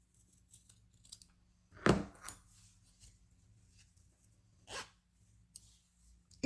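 Scissors snipping through fabric while a zippered cushion is made, with a sharp close cut standing out, a smaller snip just after and another cut a few seconds later over a quiet room hum.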